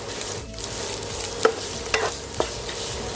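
Salted turnip (chai po) is stir-fried in a pan under a dense, continuous sizzle, with a few sharp spatula scrapes and clicks standing out close by.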